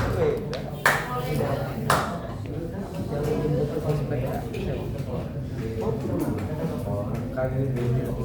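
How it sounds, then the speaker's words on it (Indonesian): Audience clapping during a speech event, with a few sharp, distinct claps over ongoing murmuring and voices talking throughout. "Tepuk tangan buat Jenderal Sudirman."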